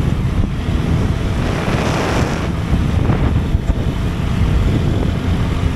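Heavy, steady wind roar buffets the microphone while riding a motorbike fast along the Tangail road in cold weather, a dense, unbroken low rumble with no pauses throughout.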